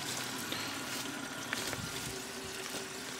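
Water runs faintly and steadily as a clogged lowboy toilet bowl refills after a flush, a soft continuous trickle with no talking.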